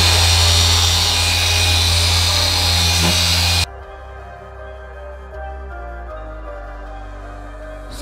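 A car polisher with compound on its pad whines high and steady, then drops to a lower, quieter whirring hum as it keeps running without any talk.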